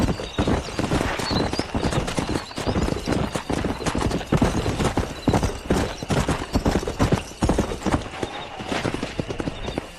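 Horse galloping in the video game Red Dead Redemption, a steady rapid clatter of hooves with occasional whinnies, loud and continuous throughout.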